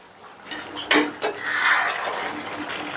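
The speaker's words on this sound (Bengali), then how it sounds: "একটু বাদে ঢাকনাটা তুলে নিলাম।" A lid on a pot of braising chicken clanks sharply twice as it is lifted, then a soft hiss of steam and simmering follows, close and clear.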